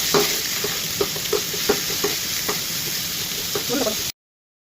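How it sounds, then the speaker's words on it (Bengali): Onion, garlic and chilli sizzling in oil for tempering dal, with a utensil tapping and stirring against the pan in irregular knocks, close up, then abrupt silence. "বাগারের জন্য পেঁয়াজ মিচ ভাজা হয়ে গেছে"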